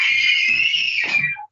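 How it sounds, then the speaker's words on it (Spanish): Several children scream together in a long, loud, sustained shriek that lasts over a second before cutting off abruptly. The screaming is close and alone in the clip, with no talk. "mirá el grito que están pegando"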